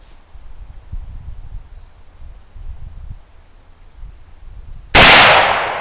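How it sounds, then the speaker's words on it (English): A single sharp, loud gunshot fired with homemade black powder made from pine charcoal cracks near the end after a few seconds of quiet outdoor rustling. "So we'll get our ears on and shoot our first shot."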